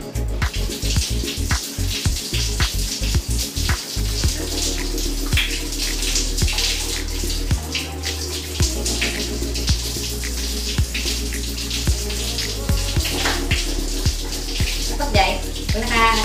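Tap water runs steadily into a basin while soap is rinsed from skin, a continuous close splashing hiss under ongoing talk.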